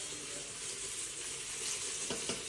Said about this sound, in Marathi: आणि इथे फिश फ्राय चालू आहे.